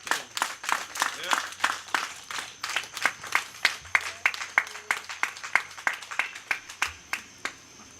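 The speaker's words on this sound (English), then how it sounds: "Give him a round of applause" Clapping at a political launch event for a district progressive group: a smallish group giving rhythmic, fairly even claps close by, steady throughout, with some low background noise.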